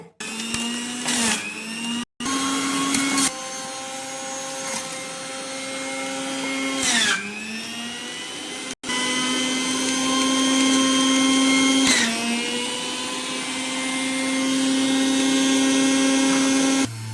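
An electric juicer motor runs loud and steady with a whining hum as coriander, mint and curry leaves are pressed through, briefly stopping and restarting several times, with no talk.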